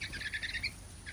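A pet bird gives a quick run of high chirping calls, faint and close in a quiet room, with a final short chirp after a brief pause.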